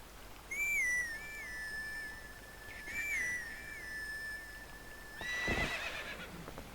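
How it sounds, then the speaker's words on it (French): In The Legend of Zelda: Twilight Princess HD, the horse Epona neighs in two clear whinnies over a steady game background, followed by a brief thud and a swell of noise near the end. "Je veux bien cueillir l'une de ces plantes et siffler un air pour Epona"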